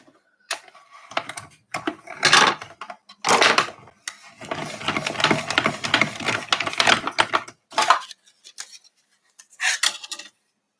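A small mini die cutting machine cranking cardstock through, giving bursts of gritty clicking and grinding rattles separated by brief silences, close and fairly loud.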